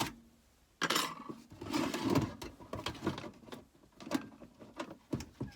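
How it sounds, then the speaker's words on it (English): A car radio is pulled out of a caravan dashboard using radio release keys, a series of close scraping, clicking and rattling plastic-and-metal sounds in uneven bursts, with no talk. "and pull the radio out."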